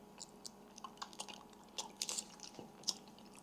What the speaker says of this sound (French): Mais on va croquer ça